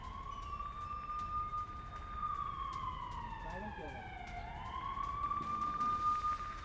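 An air-raid siren near an airport wails, rising and falling in long sweeps, heard from some distance over steady background noise.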